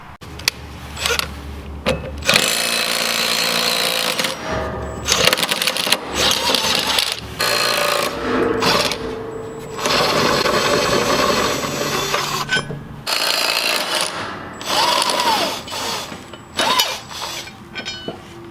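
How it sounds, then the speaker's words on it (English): An impact wrench fitted with a 15/16 socket zips the blade bolts off a lawn mower in several loud, rattling bursts separated by short pauses, with clanking tool handling between them. "You got the impact. You got the 15/16 socket on the end of it. And this will take the bolts right off for us."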